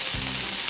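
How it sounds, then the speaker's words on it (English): Minced onion, garlic and spices frying and being stirred in a tiny pan in a miniature kitchen, a dense, close, steady sizzle with soft scraping strokes of stirring beneath it. "Cook and stir the spices until they are thoroughly combined in the pan."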